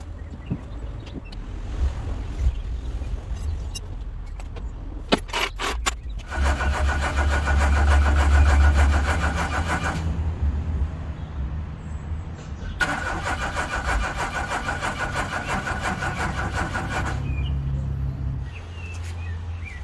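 A Rover 25 car engine cranks without starting: two long, even bursts of starter whir, each several seconds, with quieter pauses and some clicks and background noise between them.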